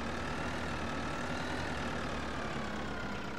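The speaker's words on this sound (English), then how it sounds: "Oh God, I can't drive this tractor at all." Tractor engine in the Farming Simulator 2013 game drones steadily at a low idle-like rumble, loud and continuous with no talk over it.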